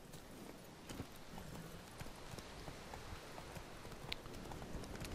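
Horse hooves clip-clop in the video game The Witcher 3: Wild Hunt, a steady, fairly faint rhythmic trot continuing throughout.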